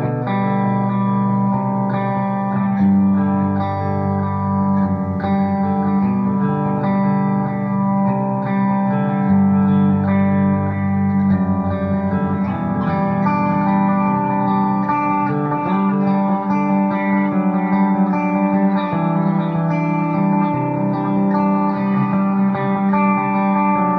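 Sustained electric guitar chords and notes from a TMG Ronnie Scott guitar, washed in heavy reverb and tape reverb echo, playing continuously with a thick, distorted, spacious tone.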